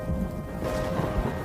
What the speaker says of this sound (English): Thunderstorms are an almost daily occurrence through the wet season